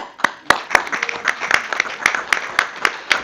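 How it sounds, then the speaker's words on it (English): A round of applause at a city council meeting: a small group claps in an uneven, scattered way, with distinct sharp handclaps spaced closely over a few seconds. "I just wanted to give you a round of applause"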